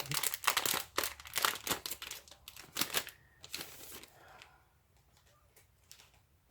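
Crinkly plastic wrapping pulled off a package, loud close crackling and rustling at first, then easing into quieter sporadic rustles.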